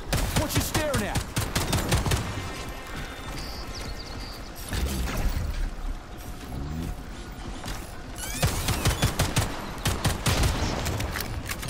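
Rapid pistol gunfire rings out in the shooter game Atomic Heart, with bursts of sharp shots clustered at the start and end and busier combat clatter between, loud and close throughout.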